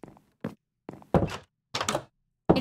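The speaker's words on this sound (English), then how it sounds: "Our door makes a weird noise." A wooden door in the Minecraft video game opening and closing, a series of short hollow thunks with gaps between them, close and fairly loud with no talk over them.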